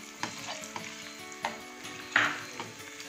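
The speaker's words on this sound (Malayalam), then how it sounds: "നമുക്കതിലേക്ക് മുന്തിരിട്ട് കൊടുക്കാം." Cashews and raisins fry in a pan for Manjali biryani, a soft continuous sizzle broken by light clicks and scrapes of stirring, close up and fairly quiet.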